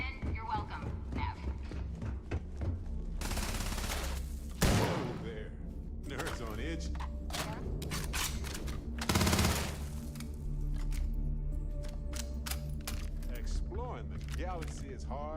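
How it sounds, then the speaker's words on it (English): Starfield video game gunfire rattles in bursts over game sound effects and music, with two sharp louder blasts mid-way, while a voice talks over parts of it. "Who's shooting? Who's shooting?"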